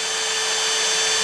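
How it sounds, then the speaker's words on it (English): Electric drill boring a small pilot hole, run at low speed, while making rotisserie spit prongs; a steady, continuous whirring hum, close and fairly loud, with no talking. "Or if I'm drilling this. I always start with a small pilot hole."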